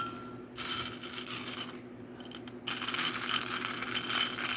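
Small hard mint candies tumble into a snack-size Ziploc bag in two close, bright rattling bursts separated by a short pause, with no one talking.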